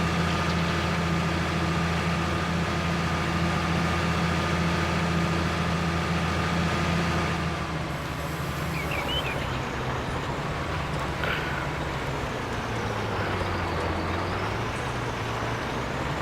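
Tractor engine in the video game Farming Simulator 19, a steady low droning hum with harmonic tones that holds throughout, shifting pitch partway through as the machine changes speed.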